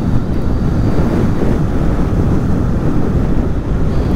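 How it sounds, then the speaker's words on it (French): Strong wind buffets the microphone while riding a Dualtron Thunder III scooter, a constant, loud low rumble and roar, unbroken from start to finish with no voices heard. "Ah il y a vraiment beaucoup de vent."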